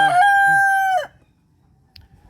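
A rooster crows once, loud and close, a single drawn-out call that breaks off sharply, followed by a brief faint cluck from hens.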